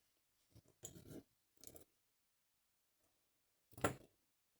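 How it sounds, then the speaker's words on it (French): Scissors snip crochet yarn for a Halloween bracelet, a few short quiet cuts in close succession followed by a single sharper snip after a pause, with no talking. "Là, on coupe ce fil, pareil, à 20-25 cm."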